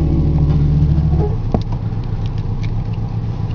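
A 1986 Pontiac Parisienne Brougham with a freshly rebuilt four-barrel Quadrajet carburetor and new battery gives a short rev over a steady idle, with Christmas music playing in the background.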